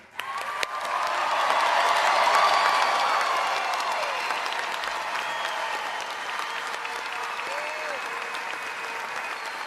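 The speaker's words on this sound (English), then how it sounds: "please join me in a round of applause for all our graduates today" Audience applause for graduates at an undergraduate commencement ceremony, a sustained wash of clapping from a large crowd that swells after the first second and stays steady to the end, with no speech over it.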